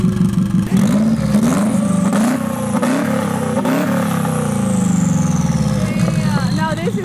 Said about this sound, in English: I'm gonna put you guys in the exhaust.